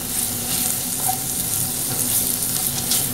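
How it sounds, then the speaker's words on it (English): Mushrooms fry in butter while being stirred in a pan, giving a steady, close sizzle with faint scraping, continuous and without talk. "Stir this butter around here in these mushrooms."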